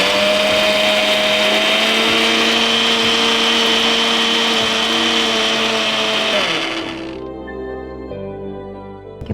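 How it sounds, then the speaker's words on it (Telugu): A mixer grinder whirs loudly and steadily, blending ragi dosa batter made from sprouted ragi and water, then winds down and stops near the end, leaving faint clinks and rattles. "ఇది మిక్సీ పట్టేసుకుందాం."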